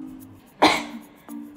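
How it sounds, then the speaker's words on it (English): A person gives one sharp, explosive cough, close and fairly loud, against a quiet background with a faint hum. "I've got a cough."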